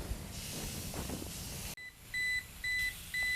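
Meatrix cooking device beeping while steaks cook, three evenly spaced electronic beeps of about half a second each, clear and close, following a stretch of hissing, sizzling noise.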